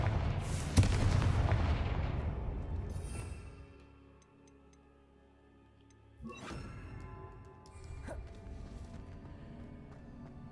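A Confringo blasting spell goes off in a Hogwarts video game, a sharp close explosive crack with a rumbling boom that decays over a few seconds, followed by quieter magical ringing and a second softer burst.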